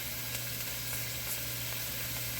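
Summer squash stir fry sizzles steadily in hot oil, a constant close crackling hiss with small pops and no talking.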